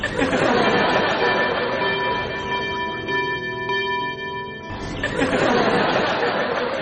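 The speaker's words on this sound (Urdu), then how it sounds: "گھنٹیاں بجاؤ، سب آئیں۔" Bells ring with a sustained metallic tone under loud crowd chatter and murmuring voices; the ringing stands out clearest during a brief lull.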